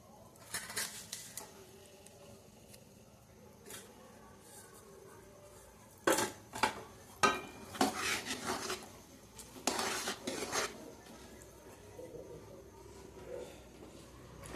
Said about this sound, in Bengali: লবণ দিয়ে একটু নেড়ে দিতে হবে